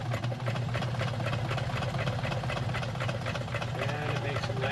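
Penncrest 3400 sewing machine stitching a zigzag at full stitch width, a steady, rapid mechanical hum with fast, even needle ticking running without a break.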